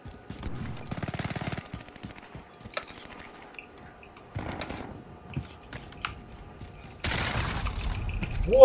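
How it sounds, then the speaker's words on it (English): Rapid bursts of automatic gunfire from a video game shootout, a dense rattling volley early on, a shorter burst midway and a loud sustained burst near the end, with quieter clicks and game effects in between. "Whoa, we started shooting at the same time, buddy."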